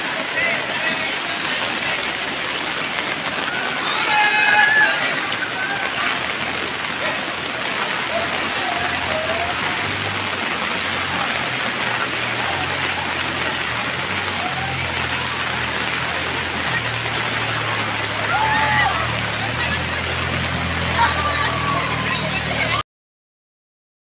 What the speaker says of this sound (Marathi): भरपूर असं पाऊस लागल्यामुळे पाणी भरपूर जमा झालेलं आहे